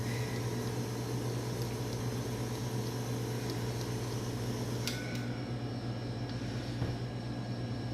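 A stand mixer beats a batch of royal icing at high speed, its motor giving a steady, loud droning whine with a constant low hum throughout and no voices.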